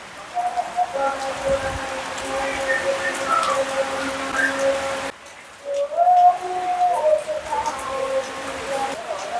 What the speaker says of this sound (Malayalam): ഇപ്പോൾ വീഡിയോ കാണാൻ ഭയങ്കര കാറ്റാണ് ഒരു ശക്തമായിട്ടുള്ള കാറ്റാണ്